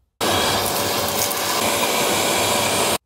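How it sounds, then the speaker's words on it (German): A special blower clears drill dust from deep inside a freshly drilled hole for a heavy-duty bolt anchor, making a steady, loud, close rushing hiss that runs unbroken for about three seconds. "mit so einem speziellen Ausbläser, dass wir natürlich auch den Bohrstaub von ganz unten heraus bekommen"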